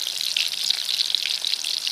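Pieces of bottle gourd fry in hot oil in a pan, giving a steady, close, bright sizzle with small crackles throughout and no voices.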